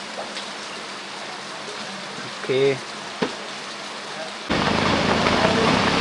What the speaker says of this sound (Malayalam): ഇവിടെ നല്ല മഴയാണ്, ഒരു രക്ഷയില്ല.